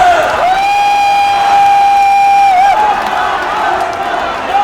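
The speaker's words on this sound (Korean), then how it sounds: "우리 나경원 전 대표님 힘내시라고 박수 한번 주십시오." Rally-goers at a South Korean conservative party leadership event cheer and applaud in a loud, constant wash of crowd noise, a long held tone sounding above it and wavering briefly partway through.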